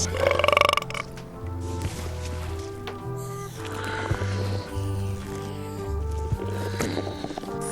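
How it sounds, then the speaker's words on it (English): Burping contest in the adventure game Return to Monkey Island, a sequence of long, loud, deep belches over a rhythmic low music line, with no talking during the clip. "Hey, how about a burping contest?"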